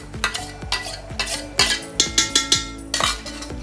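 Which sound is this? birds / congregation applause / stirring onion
stirring onion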